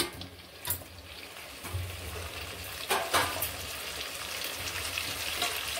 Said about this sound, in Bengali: আলু কটা ঢেলে দিলাম